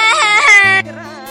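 A child wails loudly at a wedding in a high, strained voice, the cry breaking into a softer whimpering sob toward the end.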